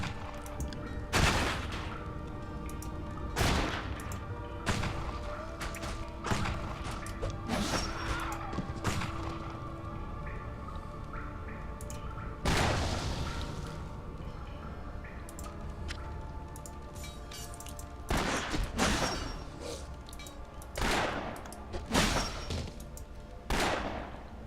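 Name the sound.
rifle gunfire in the video game Torchlight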